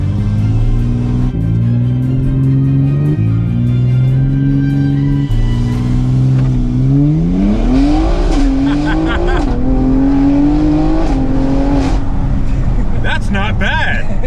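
A tuned BMW X3M accelerates hard with a loud, close engine roar that climbs in pitch through several gear changes, then eases off near the end as brief voices come in.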